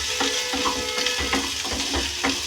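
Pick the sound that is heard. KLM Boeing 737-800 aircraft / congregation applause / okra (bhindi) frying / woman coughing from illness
okra (bhindi) frying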